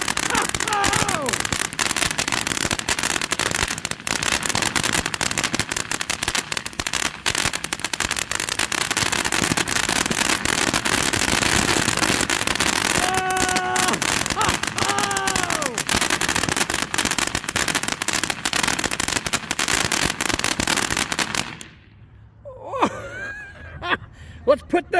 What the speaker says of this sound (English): that was the one, the only Winda Fireworks race car